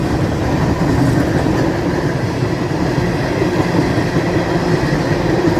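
A southbound freight train on the tracks at Folkston, Georgia, rumbling past loud and close, its wheels clacking steadily and continuously.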